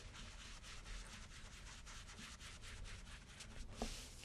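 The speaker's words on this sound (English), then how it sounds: "I'm going to add a little bit of the Bahama Blue ink onto my foam applicator, and then using a circular motion" Foam applicator rubbed in circles over cardstock, pressing Bahama Blue ink onto a penguin card: a soft, steady close-up scrubbing swish that runs continuously, with faint pulsing strokes and no talk.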